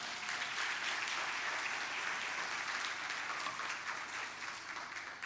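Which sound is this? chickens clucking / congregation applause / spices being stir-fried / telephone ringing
congregation applause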